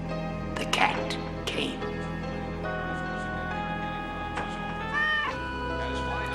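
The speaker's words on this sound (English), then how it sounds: "Then the cat came." A cat meows several times in short, uneven cries, some drawn out and wavering, over a sustained droning musical tone, with faint voice-like sounds mixed in.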